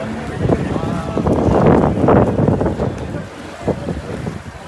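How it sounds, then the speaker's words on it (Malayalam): A fishing boat comes in to Vizhinjam beach with surf and strong wind buffeting the microphone, and a voice is heard over the rushing noise. "അടുത്ത വള്ളവും വരുന്നുണ്ട്"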